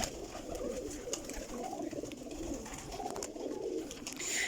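A flock of large Salara pigeons coos steadily in a loft, a low continuous murmur of overlapping calls with no talking.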